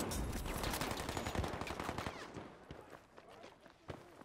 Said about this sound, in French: On me tire de derrière